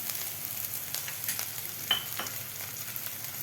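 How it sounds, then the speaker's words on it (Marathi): Ginger-garlic paste sautéing with chopped onions and green chillies in a pan, a faint steady sizzle with a few soft stirring clicks, no voices. "अद्रक लसूणची पेस्टसुद्धा एक ते मिनट मिनिट कांद्याबरोबर परतून घ्यायचे आहे"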